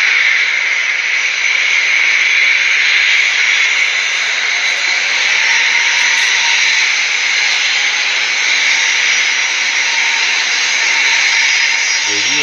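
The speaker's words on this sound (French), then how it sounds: "on voit bien l'avion qui remet les gaz à cause du jet privé qui traverse la piste" Boeing 737 jet engines roaring during a go-around at Chicago, a steady, loud, broadband hiss-and-roar holding constant throughout without break.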